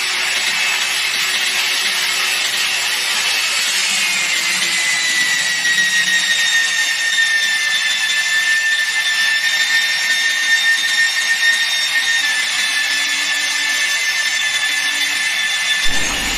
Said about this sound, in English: Press the green button of the drill switch and start to drill.